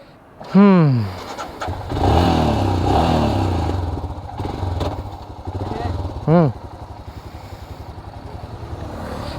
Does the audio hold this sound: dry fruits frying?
no